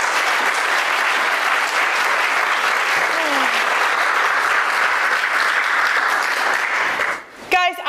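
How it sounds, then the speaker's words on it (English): An audience at a graduate student symposium claps for the keynote speaker with loud, sustained applause that stays steady throughout. It cuts off abruptly near the end. "we do think we have to applaud again for Andy"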